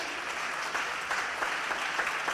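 A Spanish-speaking church congregation applauds during a sermon on the gifts of grace, a steady, moderately distant wash of many clapping hands filling the whole stretch.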